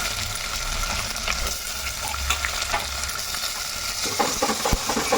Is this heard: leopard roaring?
no